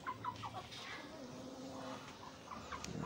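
Rambon Muscovy ducks in a small modern cage, 60 by 40 cm and 40 cm high, give short, soft clucking and chattering calls in scattered bursts over quiet background noise.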